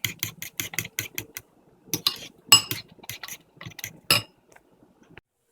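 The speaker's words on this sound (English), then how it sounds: "And give it a nice whisk." Eggs for a vegetable omelette are beaten in a bowl, a series of quick clinking taps of the utensil against the bowl in bursts, close and distinct, with short pauses between.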